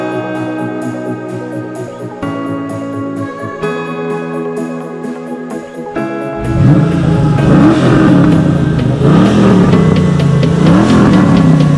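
A Dodge Challenger with a 5.7-litre V8 first idles with a lumpy, throbbing burble, then is revved hard into loud, rising and falling roars that stay close and dominant.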